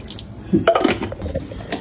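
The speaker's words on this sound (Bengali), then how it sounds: "এখন ঠান্ডা পানি, যে ঠান্ডা পানি দিই।" Cold water is poured over cooked rice to make panta bhat, a short splashing pour with bright bursts, near and fairly loud, no talk.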